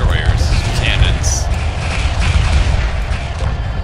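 Destroyer cannons in the space strategy game Homeworld Remastered fire in a continuous, loud barrage of deep booms and rumbling blasts, with faint radio-like chatter mixed into the battle.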